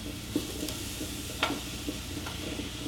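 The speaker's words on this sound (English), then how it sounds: "Once your pan's hot, just add a bit of olive oil. And we're cooking the eggplant first in order to soften it up" Eggplant frying in olive oil in a hot pan, a continuous close sizzle broken by a few soft stirring clicks and scrapes, with no voices.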